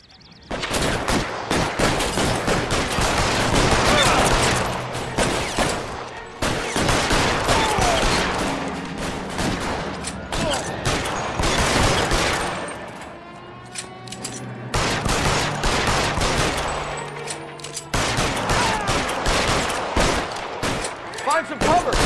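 Heavy gunfire in the L.A. Noire video game, with dense bursts of shots and rapid volleys in a loud sustained firefight, broken by brief pauses, with faint voices underneath.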